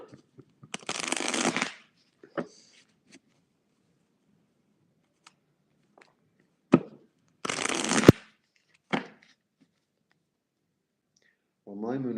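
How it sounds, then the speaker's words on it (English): Two bursts of tarot cards being riffle-shuffled, crisp and close, separated by quiet gaps with a few soft clicks and a brief voice at the end. "that was the second worst shuffle in the world, but it worked"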